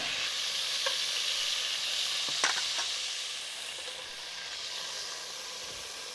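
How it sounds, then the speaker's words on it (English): Fat drains out of a Dutch oven of browned chili stew meat, heard as a steady hiss and sizzle with a brief clattering pour in the middle, then a quieter hiss, with no talk. "I'm gonna go drain the pot"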